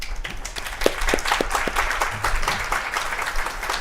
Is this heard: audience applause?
yes